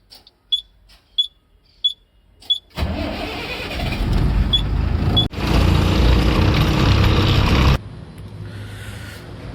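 A truck's diesel engine catches after a few short beeps, then runs loud and steady as the vehicle pulls away, with the rumble swelling midway before settling to a lower drone.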